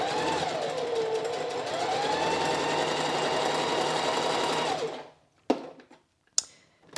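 A sewing machine zigzag-stitches along a fabric seam allowance with a steady, fast mechanical whir for several seconds, then stops, followed by a couple of sharp clicks and clacks as the fabric is handled.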